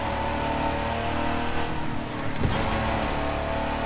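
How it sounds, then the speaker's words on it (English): A video game car's engine drones and revs inside a tunnel while stuck behind trucks, a steady mid-pitched hum with a brief surge near the middle, fairly quiet and without talk. "I was trying to knock it down a gear so you guys could hear the engine in the tunnel"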